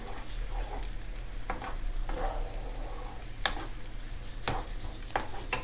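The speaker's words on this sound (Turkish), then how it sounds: "içerisine şöyle 3 tane yumurta kırdım. Yumurtalarımı kırdım. Şöyle bir karıştırıyorum." Three cracked eggs are beaten in a bowl: a series of soft, irregular whisking strokes over a low steady hum, with no talk.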